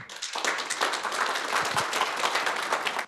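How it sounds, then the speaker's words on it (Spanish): An auditorium audience at a university leadership talk breaks into applause to welcome a speaker, many hands clapping densely and evenly after a brief quieter start. "Demos la bienvenida con un fuerte aplauso."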